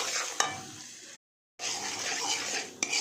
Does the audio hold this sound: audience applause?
no